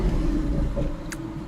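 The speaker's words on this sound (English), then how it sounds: "McLaren's going by." An orange McLaren sports car passes nearby, a steady low engine rumble holding through the moment without a sharp peak, heard outdoors with no talking.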